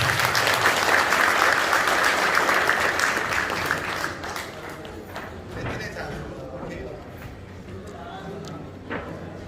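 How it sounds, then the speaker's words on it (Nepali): An audience at an association governing board meeting applauds loudly for about four seconds, then the clapping thins into scattered, softer claps that fade out. "एकपल्ट जोरदार ताली लाग्छ"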